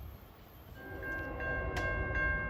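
A CSX freight train hauling auto racks rumbles past in the Mohawk Valley, a low continuous roll building in loudness with a sustained tonal whine or horn-like note entering partway through.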